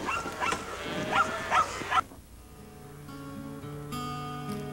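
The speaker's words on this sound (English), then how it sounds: "some mornings they'd be driving a whole herd of cows." Several cows low in the first two seconds, loud and close, then give way to a steadier humming background.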